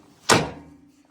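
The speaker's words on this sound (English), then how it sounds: "Shut the door." A vehicle door on a small ranch homestead is shut once with a solid, close thunk that decays quickly into a low idling hum, after refueling with ten gallons.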